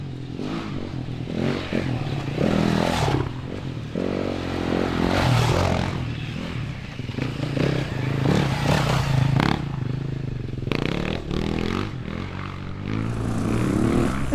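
A BMW dual sport enduro dirt bike rides off-road, its engine droning and revving up and down close by with rattling and clatter throughout.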